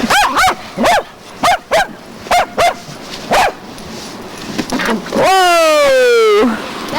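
Dog Sparky barks in a rapid run of sharp, close barks, then lets out a long rising whine near the end, in a snowy outdoor setting.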